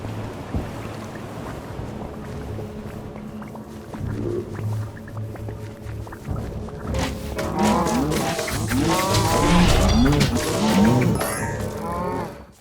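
Cow-like mushroom creatures in a secret video game level, with low, drawn-out moos that start faintly, then build into a loud overlapping chorus of repeated lowing calls in the second half.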